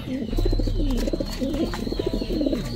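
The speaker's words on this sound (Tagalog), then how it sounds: "Ice pigeon yan." Pigeons coo in soft, throaty repeated phrases, close and clear against a low steady background, running throughout the short stretch.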